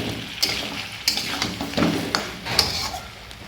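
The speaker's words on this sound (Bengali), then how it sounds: "আবার একবার নাড়াতে চলে এলাম আলুটাকে," Potatoes being stirred while they fry in a wok, with soft scraping strokes and a light sizzle at a steady, unhurried rhythm, close up and fairly quiet, with no one talking.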